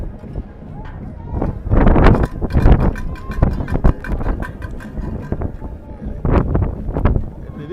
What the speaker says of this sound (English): And it is as windy as it sounds